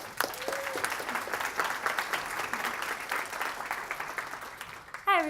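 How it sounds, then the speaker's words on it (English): An audience at a talk on open-source tools for mental health applauding, a dense steady clatter of many hands, fairly close, ending abruptly as someone begins to speak. "Let's give a round of applause."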